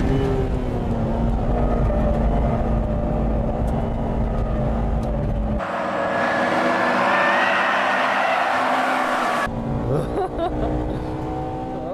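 A turbocharged Subaru Impreza racing on a track, its engine a loud sustained drone that shifts abruptly in tone partway through, with possible faint commentary underneath.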